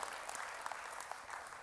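Faint audience applause at a church service, a steady patter of clapping hands heard from a distance, with no talking over it.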